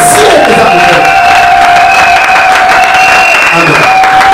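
A church congregation applauds and cheers for Jesus during a French-language worship service. The noise is loud and steady, with a sustained tone running through it.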